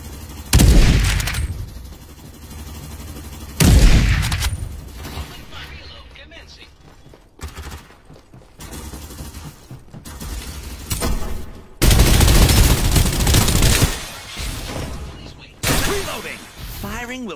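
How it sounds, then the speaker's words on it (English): Bursts of video game gunfire in an exchange of fire: loud automatic volleys and sharp shots come in several clustered waves, with quieter gaps between them and game voices talking in the background. "Exchanging fire"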